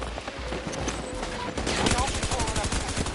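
Rapid gunfire in Battlefield 2042, a dense burst of shots that grows louder and more sustained in the second half, with a machine-gun rattle running beneath the clatter.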